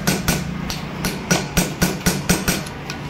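A hammer strikes a pin to drive it out of a Hero bike lock, with about nine sharp metallic blows at an uneven, deliberate pace, each close and loud over a faint background hum.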